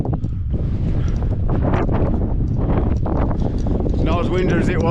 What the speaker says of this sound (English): Not as windy as it was last time, but it's still windy.